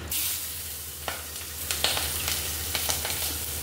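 Sliced onions fry in a wok with a steady, close hiss, broken by sharp clicks and scrapes of stirring; no one talks.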